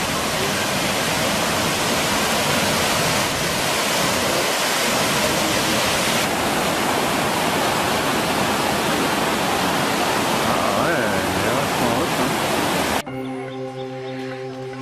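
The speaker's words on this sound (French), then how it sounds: "Alors, nous approchons la première cascade." Waterfall near Munduk in Bali, a loud steady roar of falling water that fills the scene almost continuously, with the rush cutting off abruptly near the end.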